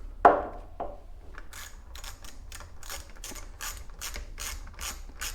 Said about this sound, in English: they get loosened with an 8mm socket